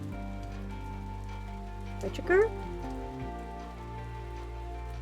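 Steady rain from the video game Necrobarista patters under a sustained musical drone, with a brief spoken word cutting in near the middle.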